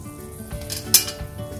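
Chana masala simmering in a pan, a soft steady bubbling sizzle with a sharp metallic clink near the middle, close and moderately loud, with no talk.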